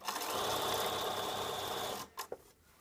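Sewing machine stitching a double-circle skirt, a close, fast steady whir for about two seconds that stops abruptly, followed by a few soft handling clicks.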